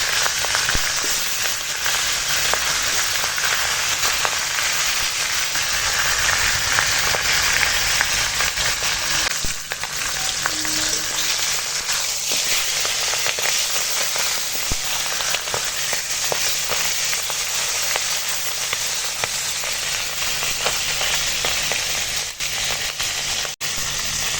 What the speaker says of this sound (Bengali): মুড়োটা এখন ভেজে নেবো